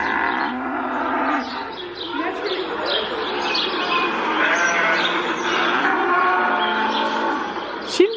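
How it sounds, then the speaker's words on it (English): A recorded cow mooing played back indoors, a drawn-out bovine moo filling most of the stretch at steady moderate loudness, with faint chirping and a brief sharp noise near the end. "It's a cow, Pen."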